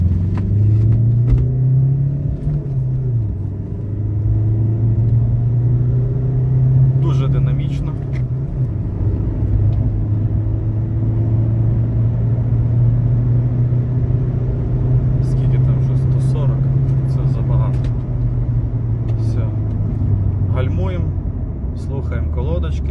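A 2011 Ford Kuga with 69,000 km on it drives onto the highway, its steady engine and road rumble holding loud and continuous, with a brief rise in revs early on and a voice talking over it throughout.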